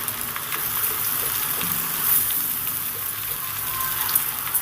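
Boiled chow mein tossed into potatoes frying in a pan gives a steady, close hiss of sizzling oil, continuous and even with faint stirring scrapes and no voices.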